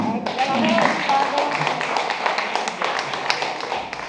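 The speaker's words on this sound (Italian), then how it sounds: "Facciamogli allora un applauso a Bruno" Audience at an award ceremony in a library clapping, a scattered patter of claps of moderate loudness with voices talking over it throughout.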